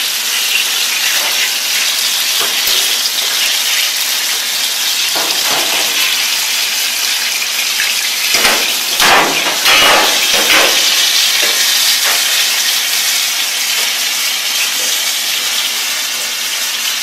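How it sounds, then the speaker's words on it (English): Apple beignets deep-frying in a fryer make a steady, close, broadband sizzle and hiss that holds without pause throughout. "Rotate them in the fryer to get a nice"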